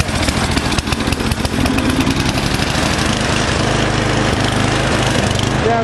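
A Tecumseh small engine on a snow blower running loud and close, a rapid steady putter holding an even pace throughout with no voices.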